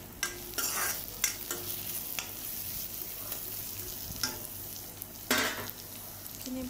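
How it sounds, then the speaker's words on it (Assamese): Crushed ginger and garlic sizzle in a pan while being stir-fried for a dry fish chutney. A steady close frying hiss runs under repeated scraping stirs and a few louder spatula strokes. "এইখিনি ভালদৰে লৰাই লৰাই ভাজিব"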